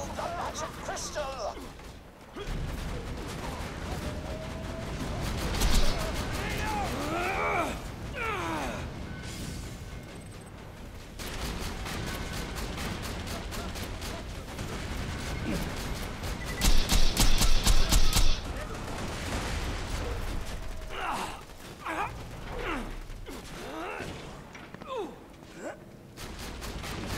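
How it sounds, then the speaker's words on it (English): Shotgun blasts and frantic combat in Borderlands 2, a video game, with repeated gunfire bursts, crashes and a loud volley near the middle, under game voices and chatter. "this shotgun, when your B shield's up, it's pretty nice. It shoots at distance"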